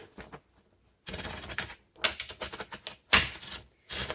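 Paper is fed into a 1970s Smith Corona Electra 210 electric typewriter, with several bursts of close mechanical clicking and ratcheting from the platen and carriage separated by short pauses.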